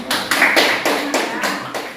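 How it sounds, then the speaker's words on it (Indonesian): A classroom of students claps for a student group, a quick run of about seven sharp, evenly spaced bursts of applause, close and loud. "Beri tepuk tangan untuk kelompok 1 yang sudah berani untuk tampil."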